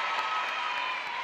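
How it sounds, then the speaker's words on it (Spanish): Audience applause at a television variety show, a dense steady wash of clapping filling the whole moment at an even level, with no break and no voice on top. "¡Aplausos por Carolina!"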